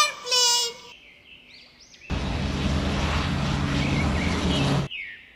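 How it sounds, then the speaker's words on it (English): A loud, steady roar of an airplane passing close by lasts about three seconds and cuts off abruptly, between brief sung and chirpy sound effects. "A for airplane."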